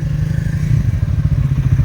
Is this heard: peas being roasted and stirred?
no